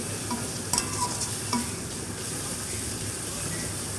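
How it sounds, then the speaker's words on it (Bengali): Onions and chillies are lightly sautéed in a pan, with a continuous loud sizzle and a few brief spatula knocks early on, all close by and without talking. "হালকা করে সটে করে নিচ্ছি"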